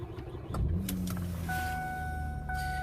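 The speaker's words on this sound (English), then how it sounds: "Let me turn the car on." A 2008 Ford Fusion SEL with a 3.0 V6 is started up close inside the cabin: a few clicks, then the engine catches and settles into a low, steady idle while electronic chimes ring out over it.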